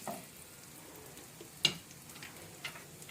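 Mustard-seed tempering spices in hot oil in a pan, a quiet steady sizzle broken by one sharp crackling pop midway and a smaller one near the end.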